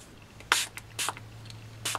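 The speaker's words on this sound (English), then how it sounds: "So I'm not directly spraying my water on this mat." A hand spray bottle mists water over handmade paper cottage roses to soak them, giving three short, crisp hissing spritzes spaced evenly apart, close and clear against a quiet room with a low hum.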